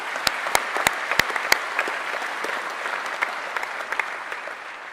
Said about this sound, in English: please give yourselves a little round of applause for getting to this point